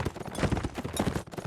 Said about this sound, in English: Geldon is on a Serenade horse now with a upgraded armor